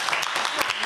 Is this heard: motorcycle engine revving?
no